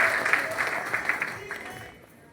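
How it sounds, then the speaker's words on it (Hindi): A meeting audience claps loudly in a dense, steady patter that fades out toward the end, with some crowd noise mixed in. "अपने सम्मान में जोरदार ताली बजा लीजिए।"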